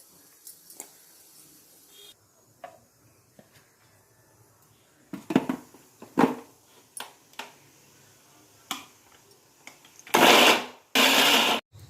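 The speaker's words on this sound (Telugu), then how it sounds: "కలబెట్టేసి కొంచెంసేపు చల్లారిన తర్వాత మిక్సీలో వేసుకుంటాము." A kitchen mixer grinder grinds cooled tomato chutney in two short, loud whirring bursts near the end, after scattered clicks and handling knocks.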